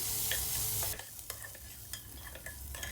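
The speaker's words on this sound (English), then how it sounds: "on medium flame, we will saute them until they turn deep golden brown" Chopped onion, ginger and garlic sautéing over a medium flame, a loud broad sizzle that drops to a softer crackle partway through, with scattered spoon scrapes and clicks against the pan.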